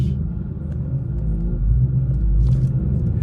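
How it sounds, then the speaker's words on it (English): Ford Mustang Mach 1 engine idling with a deep, steady exhaust rumble close by, low and continuous with a slight swell in loudness midway, no talking. "like that exhaust, to me, I just really like the Mustang exhaust"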